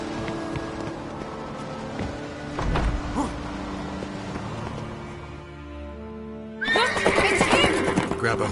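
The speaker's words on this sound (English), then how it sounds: "Grab a horse, we'll chase him down" A horse in a video game neighs and whinnies over background game sound, joined by clip-clop hooves and a louder, busier burst of game audio near the end.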